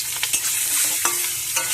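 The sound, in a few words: eggs being lightly fried and stirred in oil in a wok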